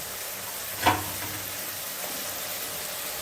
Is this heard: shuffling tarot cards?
no